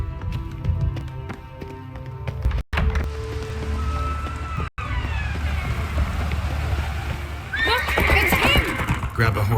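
A horse in a video game neighs and whinnies sharply beside galloping hoofbeats, with in-game music and dialogue running underneath and a second, louder whinny near the end.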